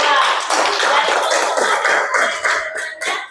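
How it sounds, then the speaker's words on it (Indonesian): Classroom applause for a student group, a dense burst of many hands clapping that thins and fades out over a few seconds. "Tepuk tangan dulu untuk kelompok 2."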